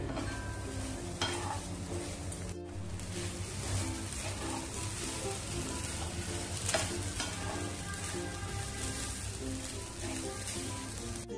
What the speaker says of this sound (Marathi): आधी खोबरं परतवून घेऊया